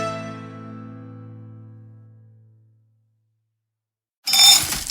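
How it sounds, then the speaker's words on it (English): Extremely processed dog food drops into a bowl with a single bright clink, then a long ringing decay fades to silence before a short, harsh rattle of kibble at the end. "That's the sound of extremely processed dog food"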